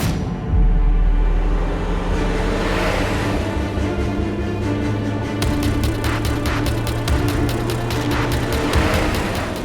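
A car driven fast on a road gives a loud, close engine roar that surges and holds steady, with wind and road rush building, while a voice speaks over it.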